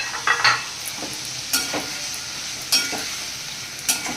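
Boiled green jackfruit, fried fritters and potatoes stirred together in a pan, a soft background sizzle broken by several distinct scraping strokes of the spatula at irregular intervals, close and with no talk.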